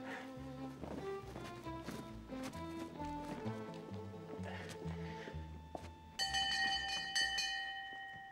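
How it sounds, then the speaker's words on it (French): A bell rings in a film drama set in Russia, sounding out clearly with a sustained, ringing tone in the final seconds after busy music with rhythmic, clip-clop-like beats. "C'est la cloche."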